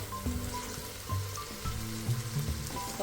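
Vegetables frying in a pan for efo riro, a Nigerian vegetable soup: a soft, continuous sizzle with gentle crackles, scattered light clinks and a faint background hum, close and moderately quiet, no talking.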